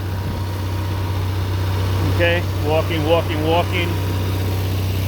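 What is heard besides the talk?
Onan generator engine running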